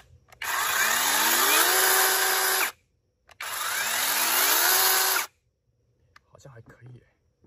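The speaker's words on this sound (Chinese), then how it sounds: "这个电锯是在网上买的" A lithium battery electric chainsaw whines loudly up to full speed in two separate runs of about two seconds each, separated by a short pause, with faint voices murmuring afterward.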